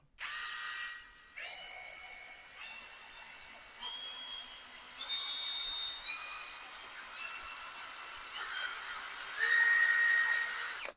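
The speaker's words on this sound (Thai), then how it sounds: "มาลองใส่ แบตฟังเสียงเทสรอบกันนะครับ ผมจะเริ่มที่ตัวสว่าน 3 ระบบก่อนครับ" A POLO cordless impact drill whirs in repeated bursts through its speed settings, its motor pitch stepping higher with each run, loud and close with short pauses between.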